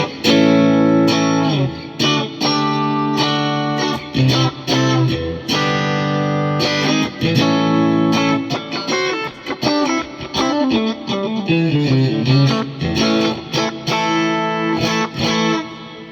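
A Fesley budget electric guitar played through reverb and compression, a busy run of picked notes and chords with smooth, even sustain and a lush ambient tail, loud and up close, no voices.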